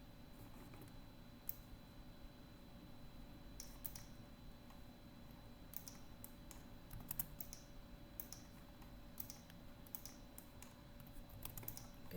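Quiet, close clicking of a computer keyboard as text is typed, in short irregular bursts of keystrokes over a low steady hum.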